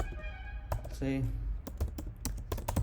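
Computer keyboard typing while coding a Java solution, a run of quick, close clicky keystrokes that follow a brief spoken word and continue in an irregular patter.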